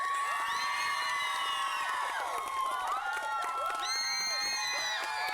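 A crowd yelling, screaming and clapping, loud and dense throughout, with cheers and whoops layered over scattered applause.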